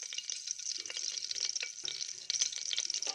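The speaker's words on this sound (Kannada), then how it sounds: "ಇವಾಗ ಸ್ವಲ್ಪ ಸೋಂಪು ಹಾಕ್ತಾಯಿದ್ದೀನಿ, ಒಂದು ಅರ್ಧ ಸ್ಪೂನು." Half a spoon of fennel seeds crackles and sizzles in about four small spoons of hot oil for a tomato bath, a steady close hiss dotted with quick pops, with no voices.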